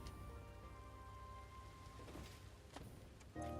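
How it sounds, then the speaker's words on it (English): Rain falling in the video game Satisfactory, a steady soft patter with faint distant rumbles and a few brief sharper sounds. "Looks like it's gonna rain all day."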